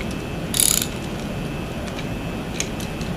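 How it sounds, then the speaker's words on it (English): A 1/2 inch square-drive ratchet turns a hand-wheel tool, giving one short burst of ratcheting clicks near the start and a faint click later, over a quiet steady background. "You can put your regular 1/2 inch ratchet in here. Turn it from one end to the other."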